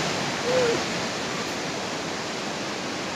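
Steady, broadband roar of the Skradinski Buk waterfall on the Krka in Croatia rushes continuously throughout, dense and even, with no voices over it.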